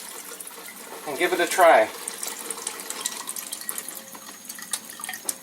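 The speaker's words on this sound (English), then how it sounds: "So now we'll make some Kangen water" Water flowing from a Kangen K8 water ionizer, a steady running-tap stream with a louder splashing surge early on, while a person speaks over it.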